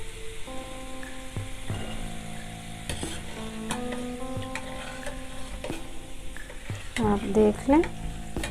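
Bhalliyan pakoras sizzle steadily in hot frying oil, with someone speaking briefly over the hiss. Louder stirring and scraping rattles come in toward the end.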